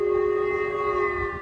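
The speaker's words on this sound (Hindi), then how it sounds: "जापान के उत्तरी क्षेत्र होक्काइडो में सायरन की तेज आवाज सुनाई दी" A civil defense siren sounds over Hokkaido in northern Japan, holding a loud, steady tone that barely shifts, with no voices present.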